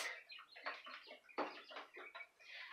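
Young quail in a bathroom tub brooder give a quick run of soft, close chirps and clucks in short bursts, faint against a quiet room.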